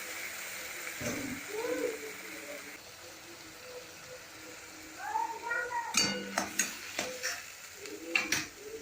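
Browned onions and ground masala paste are stirred in a pan for a pomfret curry, giving a soft, steady sizzle with scattered spoon scrapes and pan clinks that grow busier toward the end, while a voice speaks over it.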